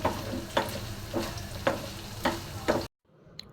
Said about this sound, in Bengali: আর এদিকে অল্প করে বুট ভেজে নিচ্ছি।